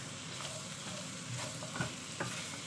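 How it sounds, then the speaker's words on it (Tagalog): Vegetables for ginataang gulay sautéing in a pan, a steady sizzle under repeated scraping stirs of a utensil, close and moderately loud with no talk. "Gisa lang natin."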